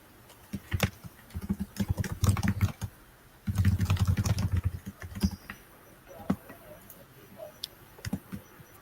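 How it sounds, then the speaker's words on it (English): Rapid typing on a computer keyboard, dense bursts of clicking keys in two long flurries with scattered single taps between, close and fairly quiet. "Wow, Naveed, you're a fast typer."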